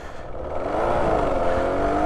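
Yamaha R1-Z motorcycle engine running in first gear and sounding choked up, a steady, close, rough drone that swells slightly in loudness without clear revs, with no talking.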